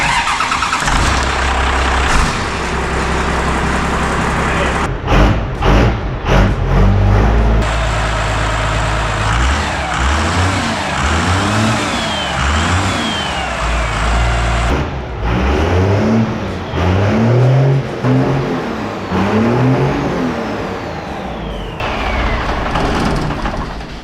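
An off-road rollback truck engine cranks repeatedly in rhythmic whirring bursts, stumbles, then cranks again and catches, rumbling loudly up close.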